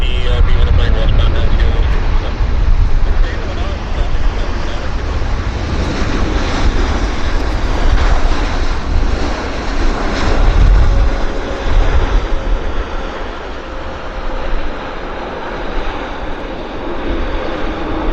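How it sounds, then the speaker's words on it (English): A large Korean airliner passes at Vancouver airport with a loud, sustained jet roar that swells and eases over many seconds while voices talk over it. "Big aircraft. It's our Korean."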